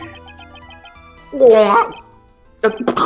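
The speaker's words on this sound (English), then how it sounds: "He sneezes all over." A sharp, explosive sneeze-like burst from a character in Phoenix Wright: Ace Attorney cuts through background music, followed a moment later by a second short burst.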